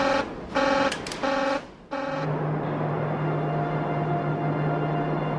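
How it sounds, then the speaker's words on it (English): Control room alarm buzzer at a nuclear power plant sounding in four short repeated pulses, then giving way to a steady low electrical hum, loud and close. "8 minutes to 1. Another alarm."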